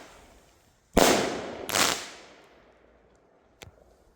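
Two sharp, loud single-shot firework cakes bang close together, each trailing into a crackling decay, bursting low, followed by a fainter distant pop.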